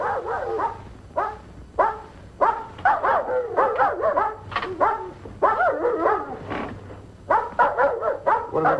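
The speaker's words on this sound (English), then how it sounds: "What are they barking about? Are they, the dogs out in the garden?" Dogs out in a garden bark in repeated bursts, sharp yips and woofs coming in uneven clusters with short pauses, moderately close and with no talking over them.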